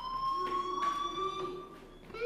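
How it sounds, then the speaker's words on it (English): A fire alarm in the video game Life Is Strange sounds continuously as a steady electronic tone with faint pulsing, moderately loud and unbroken throughout, with no talk. "Hey, do you hear that fire alarm?"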